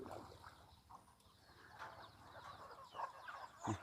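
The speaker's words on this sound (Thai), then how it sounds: "เป็ดไก่เนาะ" Farmyard ducks and chickens being fed make faint, scattered clucks and squawks over a busy outdoor background, with a few sharper calls toward the end.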